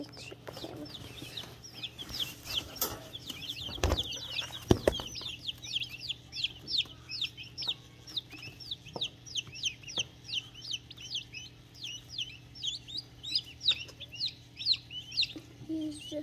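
Ayam Cemani chicks peep and cluck in a rapid, continuous series of short high calls, fairly close, with a few louder knocks and rustles near the start and a steady low hum underneath.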